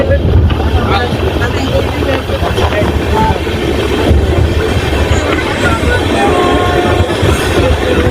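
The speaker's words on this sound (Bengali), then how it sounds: "আমাদের ট্রেন ধীরে ধীরে গতি নিয়ে নিচ্ছে, তার নিজস্ব স্টাইল নিজস্ব গতিতে আমাদের ট্রেন।" Tebhaga Express train with LHB coaches gathering speed near Dum Dum Junction, a loud continuous rumble with rhythmic wheel clatter heard close up from on board.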